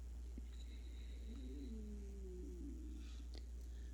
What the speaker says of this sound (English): my stomach just growled